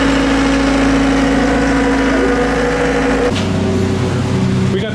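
A four-wheeler ATV engine running close by, a loud steady mechanical hum with a constant low drone that shifts tone partway through, no voices over it.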